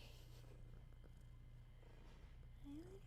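A cat purrs close to the microphone in a low, steady, continuous rumble that stays quiet and even throughout, with no one talking.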